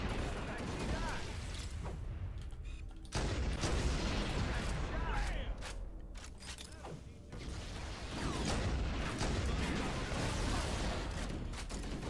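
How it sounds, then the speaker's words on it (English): Booming explosions from Halo: The Master Chief Collection burst repeatedly over a dense, rumbling background, with crackling debris and mechanical noise filling the gaps. "Okay, these explosions are great,"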